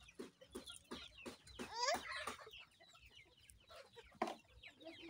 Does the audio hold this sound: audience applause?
no